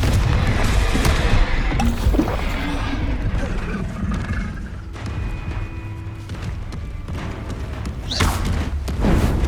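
Confringo, an explosive spell, is cast during a Hogwarts Legacy battle with trolls: loud booms and crackling magical blasts over continuous combat noise, with a sharp bright burst near the end.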